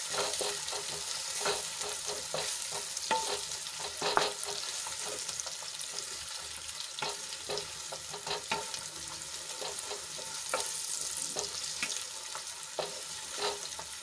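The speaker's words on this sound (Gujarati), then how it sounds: "આદુ લસણ અને મરચાંની પેસ્ટ થોડી સંતળાઈ જાય એટલે એમાં આપણે ડુંગળી એડ કરી લઈશું અને ડુંગળીને આછા ગુલાબી રંગની થાય ત્યાં સુધી આપણે એને સાંતળી લેવાની છે" Chopped onion sautéing in hot ginger, garlic and chili paste in a pan, a steady bright sizzle broken by repeated clinks and scrapes of a spoon stirring, close and loud with no voices.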